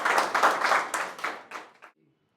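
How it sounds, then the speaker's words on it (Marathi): An open mic audience gives a short burst of loud applause for a performer, dense clapping that thins out and stops after about two seconds, leaving near silence. "एकदा जोरदार टाळ्या अरुणसाठी"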